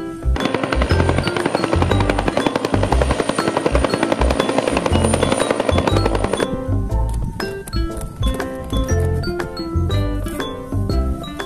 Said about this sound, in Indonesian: Wadidaw, kalau ini helikopter.